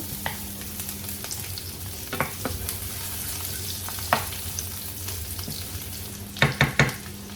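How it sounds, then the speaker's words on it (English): Sliced onion frying in rendered pork fat for a tomato-free pork menudo, a steady close sizzle with a few sharper crackles and stirring scrapes near the end, no voices. "the fat is already released. So we won't be using this. So now we will add our onion."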